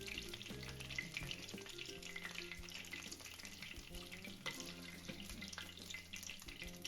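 Battered calamari and shrimp frying in oil, a continuous soft crackling sizzle with faint clinks and stirring noises, heard close but quiet.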